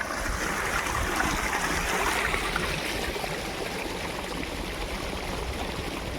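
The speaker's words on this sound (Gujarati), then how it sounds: "અહીંયાથી આપણું વાડીથી પાણી આવે જો" Water from a farm flows in a steady, continuous rush and trickle, close and alone at an even level throughout.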